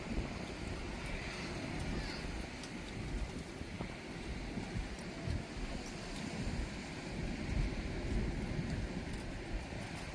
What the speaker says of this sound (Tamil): நல்லா காற்றும் வருது சிலு சிலுந்து